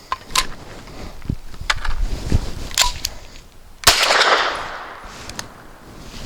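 Shots from a Grand Power SP9 A3 Stribog firing SIG V-Crown 124 grain 9mm rounds ring out as several sharp, spaced reports at an outdoor range, one louder blast followed by a lingering echo.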